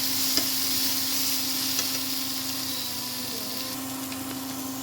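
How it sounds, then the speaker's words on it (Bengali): Spice masala sizzles and fries in a pan on the stove while being stirred, a steady close hiss that holds throughout with occasional light scrapes. "এবার ঢাকনাটা উঠিয়ে দেখে দেবো মশলাটা ভাজা হয়ে গেছে"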